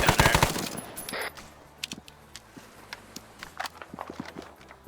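A video game machine gun fires one short, sharp, rapid burst at the start. After it, only sparse soft clicks and footstep-like taps remain at low level.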